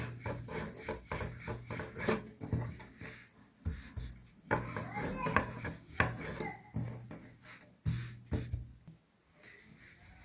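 A rolling pin rubs and rasps over pastry dough on a floured counter in steady back-and-forth strokes, close and soft, with light knocks between passes.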